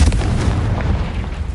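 A Confringo blasting spell goes off in the Hogwarts Legacy video game, a loud booming blast with rumbling low-end decay filling the short moment.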